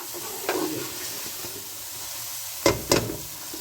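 Vegetables sizzle in a pan for Pakistani khagina while a spoon stirs them, with a few distinct scrapes and clatters against the pan over a soft, continuous frying hiss.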